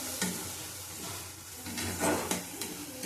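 Spices and Kashmiri chili powder frying in a pan, a close sizzle broken by repeated spoon scrapes and stirring strokes, no talk.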